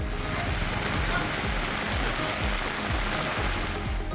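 Steady, dense monsoon rain in rural Visavadar, Junagadh district, Gujarat, falls and patters on surfaces, a continuous loud hiss with no voices heard.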